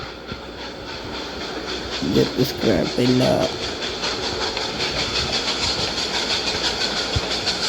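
A train rumbles past in the Roblox game Choo-Choo Charles, a steady rolling clatter and hiss under a brief burst of a person talking.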